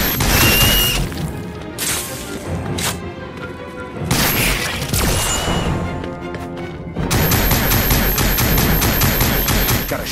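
Rapid gunfire aimed at alien creature nests in a Star Trek action video game, loud bursts of shots and crashing impacts amid noisy game effects, with brief lulls between volleys.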